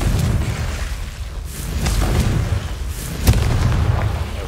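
Booming blasts from the Confringo fire spell in Hogwarts Legacy, set against a huge tentacled plant. A rumbling, explosive din with several bursts ends in a sharp, loud impact near the end.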